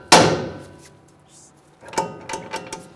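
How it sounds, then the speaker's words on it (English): A hammer strikes the steering knuckle of a 2011-2018 Ram 1500 during a leveling kit install, one sharp metallic clank followed by a few lighter taps and knocks, close by. "or just use a hammer and just give it a tap."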